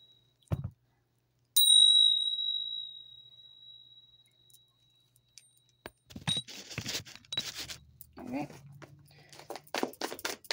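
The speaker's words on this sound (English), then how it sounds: "Let's ring the bell." A small bell rings once, bright and close, its clear tone hanging and slowly fading over several seconds; a short tap comes before it, and a person talks after the ring dies away.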